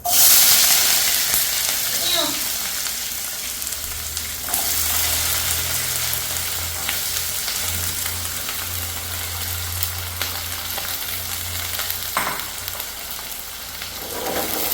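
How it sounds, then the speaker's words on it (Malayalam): Chopped ginger and garlic sizzle steadily in hot oil for a mango pickle, a close, continuous frying crackle with occasional stirring scrapes and no talk. "നമ്മുടെ അരിഞ്ഞ് വെച്ച ഇഞ്ചി വെളുത്തുള്ളി എല്ലാം കൂടി കൊടുക്കാം"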